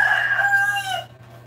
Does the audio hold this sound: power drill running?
no